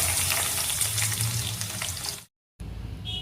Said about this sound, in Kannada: ಒಂದು ಬಾಣಲೆಗೆ ಸ್ವಲ್ಪ ಎಣ್ಣೆನ ಸೇರಿಸ್ಕೊಂಡು ನಾವು ತೊಗೊಂಡಿರ್ತಕ್ಕಂಥ ಸ್ಪೈಸಸ್ನೆಲ್ಲ ಸೇರಿಸ್ಕೊಳ್ತಾ ಇದ್ದೀನಿ